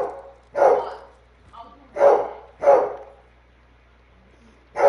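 Dogs barking in the Hunt: Showdown game, four loud, separate barks spaced roughly a second apart, fairly close, with quiet gaps between them.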